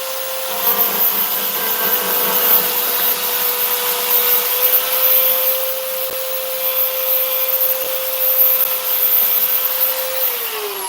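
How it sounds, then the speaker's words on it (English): A belt grinder grinds down a metal workpiece in a steady, continuous abrasive whir with a sustained tone, loud and close for the whole stretch, with no voices. "You notice how I just pulled away from the workpiece and went over and kind of grinded them down?"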